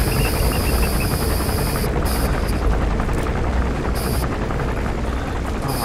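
A helicopter in Metal Gear Solid 5: The Phantom Pain gives a loud, constant rotor roar with dense rhythmic chopping, close and unbroken throughout, with no talk.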